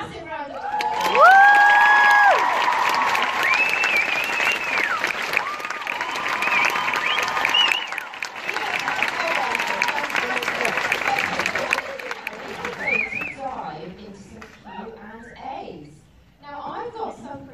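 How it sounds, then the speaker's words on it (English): An audience at a live comedy tour show applauds loudly with cheering and whoops, sustained for about twelve seconds before it fades, and speech follows. "I think we should stop and give these girls a massive round of applause"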